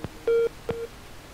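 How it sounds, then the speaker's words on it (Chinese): Telephone signalling with two short electronic tones, a longer beep then a briefer one, each preceded by a click, clear against a quiet background. "又有电话了"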